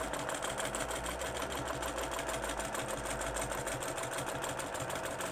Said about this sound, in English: I've gone ahead and I stippled all the way around the wedge